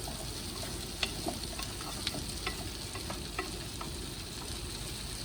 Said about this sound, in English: Give your Brussels sprouts a little stir.